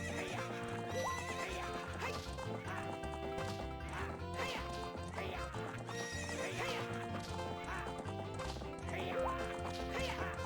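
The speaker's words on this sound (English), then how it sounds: "How about a little race with me? One lap around the corral with that horse." A horse in Zelda: Ocarina of Time gallops around a ranch corral in a race, its hoofbeats clip-clopping quickly and steadily, with repeated whinnies and game music underneath throughout.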